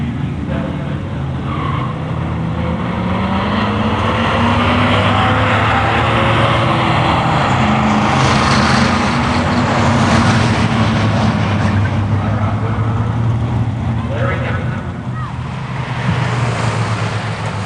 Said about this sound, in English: Buick GS 350 versus Plymouth Duster.